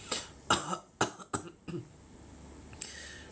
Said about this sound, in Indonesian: Kemudian dibatuk-batukan.